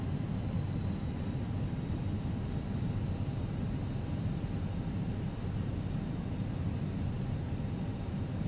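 In Flight Simulator 2020, an airliner on a Hamburg to Palma flight throttles up its engines, a steady broad roar that holds evenly throughout with no voices.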